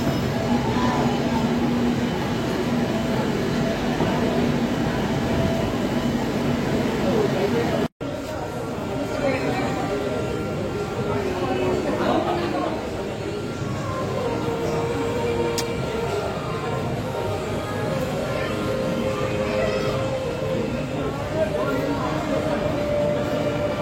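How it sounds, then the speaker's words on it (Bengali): Blue Line metro train in Kolkata pulling into an underground station, a continuous loud rumble and rail roar filling the clip under steady platform chatter, with a brief cut partway through. "সোজা আসছে ট্রেন, ওটা ধরে আমরা গিরিশ পার্কে যাবো।"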